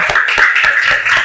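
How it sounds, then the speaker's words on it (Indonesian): A classroom of pupils claps for a group, a short burst of quick, uneven handclaps that sound close and bright. "Beri tepuk tangan untuk kelompok pewarna."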